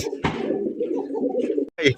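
Red checker racer pigeons at a large pigeon farm coo and call nearby in a steady low murmur, with brief sharper sounds and a short pause before the calls pick up again at the end.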